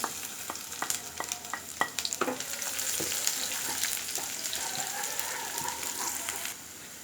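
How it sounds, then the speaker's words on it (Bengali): Onions and whole spices such as bay leaf and black pepper fry in oil for a broiler chicken curry, a steady close sizzle broken by frequent sharp clinks and scrapes of stirring, with no talk. "মশলা আর পেঁয়াজ কিছুক্ষণ ভাজার পরে"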